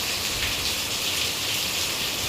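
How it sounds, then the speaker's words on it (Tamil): Heavy rain with wind-blown drizzle pours steadily, a dense continuous hiss close by with no break across the whole stretch and no voices. "மழை சாரல் அடிக்குது."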